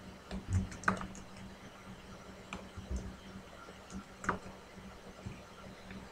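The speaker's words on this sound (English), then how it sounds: "I'm typing, that's why I'm being quiet." Scattered keyboard clicks tap out in uneven bursts, fairly close and soft, with no talking over them.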